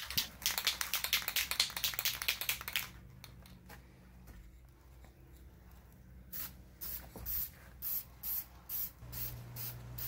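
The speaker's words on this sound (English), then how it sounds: "It took me approximately 10 coats of spray varnish" Bursts of aerosol spray hiss from a can of spray varnish on turned wood, a dense rapid run of short sprays at first, then a pause and several separate, evenly spaced spritzes close by.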